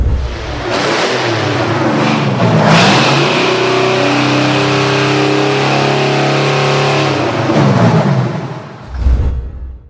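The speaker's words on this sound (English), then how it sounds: "it boasts incredible throttle response and a legendary ear-splitting exhaust scream that earned" A Detroit Diesel 14-litre two-stroke V12 on a cold start, cranking then catching and revving up into a loud, harsh, rising exhaust scream that holds steady before dropping off abruptly near the end, heard close and alone.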